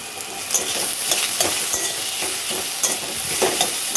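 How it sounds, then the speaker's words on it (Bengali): Boiled potatoes and salt tipped into a pan of browned fried onions, giving a steady sizzle with scraping, stirring clatter and a few sharper knocks throughout. "এবারে আমি সিদ্ধ করা রাখা আলুটাকে দিয়ে দেবো আর দিয়ে দেবো স্বাদ মতন লবণ"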